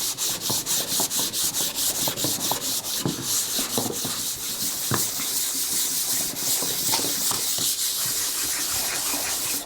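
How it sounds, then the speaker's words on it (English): Sanding part of a guitar being built to rough up its surface before gluing, a steady, close scraping rub with quick repeated strokes running continuously without talk. "I'm just going to give a very quick sanding over this, just to rough it up a little bit"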